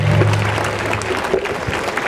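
Schoolchildren clapping together in welcome at an annual school sports day, a sustained wash of applause at steady strength, with a low hum from the sound system beneath it.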